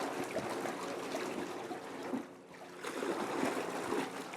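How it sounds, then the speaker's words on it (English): Water swirled by hand in a bucket for a biodynamic preparation, a continuous sloshing, trickling churn with a brief lull midway before the stirring picks up again. "Keep stirring."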